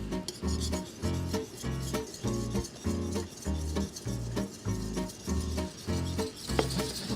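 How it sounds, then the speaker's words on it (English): Batter being whisked vigorously in a bowl, with a fast, steady rhythmic scraping and clicking of the whisk repeating without pause, close and fairly loud. "Whisk vigorously."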